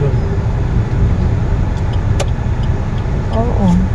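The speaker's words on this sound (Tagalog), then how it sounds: "Napakaraming sasakyan. Salimbayan ng salimbayan. Mga sasakyan." Heavy road traffic with many cars passing close by as a loud, constant engine and tire roar, with a brief horn-like tone near the end.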